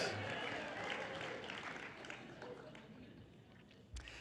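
Audience members at a nutrition presentation break into applause, a brief burst of scattered clapping mixed with crowd murmur and voices, with a sharp knock near the end.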